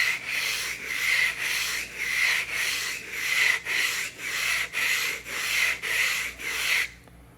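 Blade honed lightly on a sharpening stone to raise a uniform burr, about a dozen steady back-and-forth rubbing strokes in an even rhythm, close and clear, stopping abruptly near the end.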